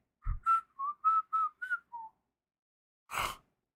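A short whistled tune of seven quick notes, then a pause and a breathy burst at the end; clear and fairly close, no talking.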